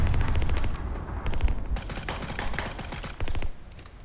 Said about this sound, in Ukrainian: Чули постріл?